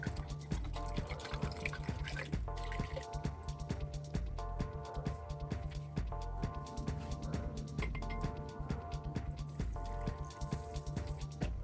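Liquid is poured and splashes into a bowl of garden cress seeds being prepared for sweet ladoos, a steady close gurgle and drip with faint clinks, running throughout without talk.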